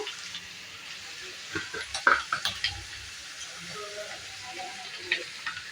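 Mutton liver frying in a pan with turmeric and salt, giving a soft sizzle under a faint background hum, with a few light taps and scrapes as it is stirred and a voice speaking now and then.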